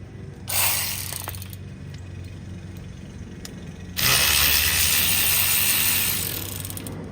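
Ratchet wrench removing a bolt from the steering column of a 1988-98 Chevy OBS truck, a steady mechanical clicking and rasping that starts, pauses, then resumes louder and continues close to the microphone.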